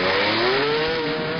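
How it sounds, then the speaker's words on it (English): The number 21 Ferrari race car at the 1970 Sebring 12 Hours, a loud engine howl revving steadily with a rising tone, close and continuous with no talk. "Finally repaired, the number 21 Ferrari joins the fray."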